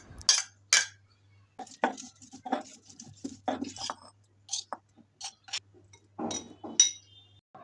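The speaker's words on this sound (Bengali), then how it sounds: "এগুলো এখন বেটে নিচ্ছি।" Dried chilies and garlic being ground by hand, giving a run of irregular clinks, scrapes and knocks, fairly close and alone with no talk.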